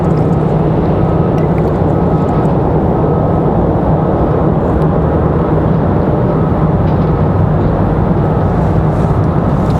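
Air France airliner at Raleigh Durham International Airport, a steady loud roar of jet engines that holds constant throughout, with no talk over it.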